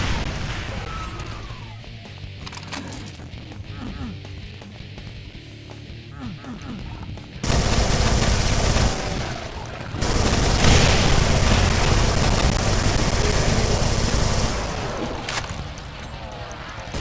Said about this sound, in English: I fucking love the minigun in Brutal Doom